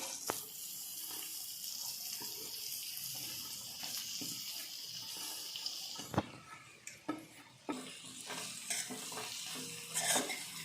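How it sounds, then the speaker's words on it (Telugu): Spring onions fry in oil in a pan, giving a soft steady sizzle with occasional scraping and clinking of a spoon stirring, quiet and close throughout. "ఇది బాగా కలిపేసుకొని ఇలాగా దీన్ని కూడా ఒక ఫైవ్ మినిట్స్ వరకు ఈ ఆయిల్లో మగ్గించుకుందామండి"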